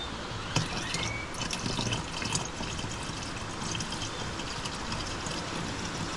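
Fluid pours into a reservoir on a new Jeep Gladiator, a quiet, steady trickling and gurgling stream with a few small clinks, heard alone.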